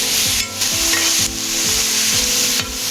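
Food sautés in butter in a pan with a loud, close, constant sizzle, and a utensil stirs it in regular strokes roughly twice a second, with brief bursts of louder hiss; no one speaks.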